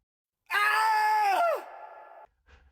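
A single loud, anguished scream rises and then breaks off, trailing into a quieter moan, followed by a brief soft breath.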